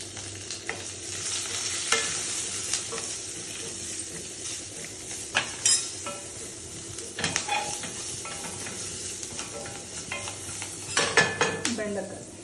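Lady's finger (okra) fries with peanuts and curry leaves in an AMC 24 cm hotpan, a steady close sizzle under repeated scraping stirs and occasional metallic clinks of a utensil against the pan.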